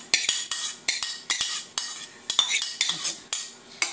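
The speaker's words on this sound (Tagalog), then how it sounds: "Ihahalo natin yung ating pork." A utensil scrapes and clanks against a pan while stirring pork with vegetables, a rapid, steady series of metallic strokes up close with no talking.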